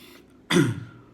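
A single short cough, like a brief throat-clearing, during an investigative interrogation interview. It is close and sharp, with quiet room tone before and after and no speech.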